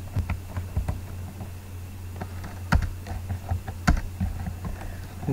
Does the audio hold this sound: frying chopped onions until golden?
no